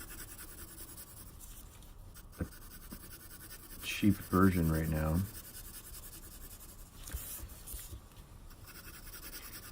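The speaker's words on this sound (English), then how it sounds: "I'm overlapping through a series of cross hatching" A pencil cross-hatches on paper while shading a sphere, giving a faint, steady scratchy texture. Someone talks over it in the middle.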